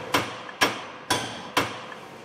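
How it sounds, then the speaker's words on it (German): Four sharp hammer blows ring out at a steady, even pace, each strike clear and close with a short decay. "Der Kraftsportler hämmert"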